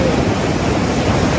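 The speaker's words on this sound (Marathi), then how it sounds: "बघा किती मोठ्या मोठ्या लाटा येतात तिथे." Sea waves surge at Velankanni beach in Uttan, giving a loud, continuous roar of surf mixed with wind buffeting the microphone.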